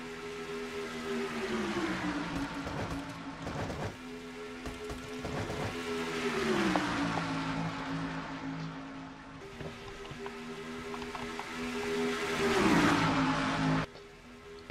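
Several race cars in a stock-car racing video game All Star race howl out of the fourth corner, a steady layered engine drone whose pitch swoops up and down as cars pass, loud and continuous with no talking.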